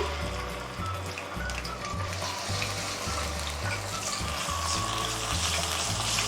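Continuous crackling sizzle of ginger and garlic frying in hot oil, with a low rhythmic hum pulsing underneath.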